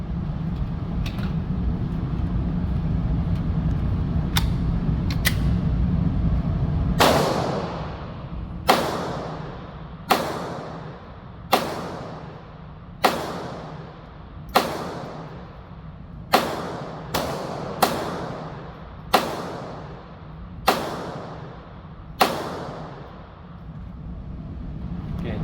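A Glock 44 pistol fires Mini Mag 40 grain round nose .22 ammunition outdoors, about a dozen sharp, loud shots at uneven intervals, with a couple of fainter distant pops before them over a steady background rumble.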